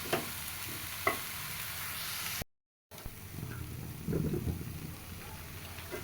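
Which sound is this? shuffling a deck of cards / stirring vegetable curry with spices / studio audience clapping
stirring vegetable curry with spices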